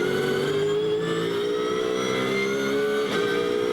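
A GT race car at Rockingham during a British GT Championship race holds a steady, loud engine drone with rising pitch under acceleration, briefly dipping near the end as the gear changes before pulling again.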